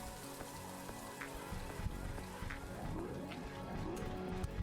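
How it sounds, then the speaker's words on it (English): Acid rain pattering down in The Riftbreaker, a steady broadband hiss of drops striking surfaces with faint scattered ticks, continuous and moderately quiet with no talking. "The acid rain is over."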